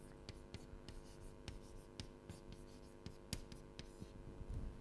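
Chalk or marker scratches and taps steadily across a board during an engineering lecture, faint uneven strokes over a constant room hum with no talking.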